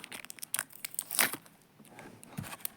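Sticky tape is peeled and torn away from figure packaging in crackly rips, followed by a softer rustle.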